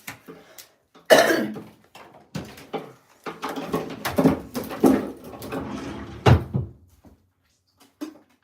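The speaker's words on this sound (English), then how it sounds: "That's why I've been coughing a lot and been being not feeling good." Repeated harsh coughs from someone with a respiratory infection come in irregular bursts, some loud and close, with a few quieter throat-clearing sounds between them and pauses of silence.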